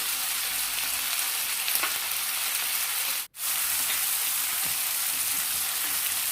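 Spices crackle and sizzle in a hot pan for a Karnataka-style mutton and field bean curry, a steady dense frying hiss close by with one brief dropout near the middle, no talking.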